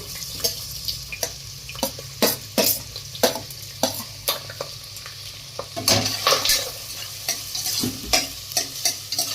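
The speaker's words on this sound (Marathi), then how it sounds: "तेल टाकले आता दिसतंय तेल टाकलं आपण कांदे टाकून देऊ आता आपण कांदे टाकून देऊ" Chopped onions frying in hot oil for home-style pav bhaji, a steady sizzle under repeated sharp scrapes and clacks of a spatula stirring against the pan, close and loud with no talk.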